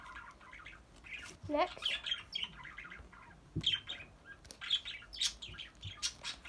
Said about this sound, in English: Sorry, there are birds in the background.